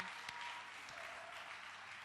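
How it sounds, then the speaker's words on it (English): Audience applause at a live-streamed bartending event, a dense steady patter of clapping hands from a crowd holding at an even level throughout, with no talk over it. "Please, another round of applause for Nico."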